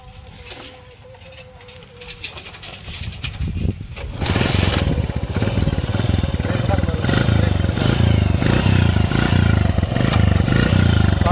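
A petrol-electric hybrid motorcycle's petrol engine starts after quiet, building to a loud, steady, close chugging drone that runs on without a break.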